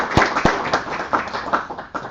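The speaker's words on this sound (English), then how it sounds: "I think that deserves a round of applause" A small audience at a tech conference talk gives scattered, uneven clapping: a few sharp close claps at first, then irregular thinner claps tapering off.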